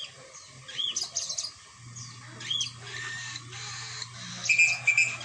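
A pet bird named Sunny chirps after a flyby, bright short tweets in scattered bursts over a faint steady low hum, fairly close and alone without talk.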